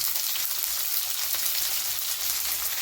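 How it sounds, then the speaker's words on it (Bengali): Vegetables for chilli gobi lightly frying in a pan, giving a steady, fairly soft sizzle that hisses evenly throughout, with no voices. "আর এগুলোকেও হালকা করে ভেজে নেব।"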